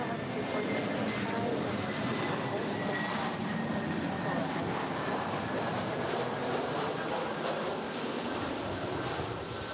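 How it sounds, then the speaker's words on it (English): Delta Airlines Airbus A321 arriving at LAX from Salt Lake City, a steady, fairly distant engine whine and rush at even volume throughout, with a faint voice murmuring underneath. "This is Delta Airlines Flight 1013 coming in from Salt Lake City. It's an Airbus A321."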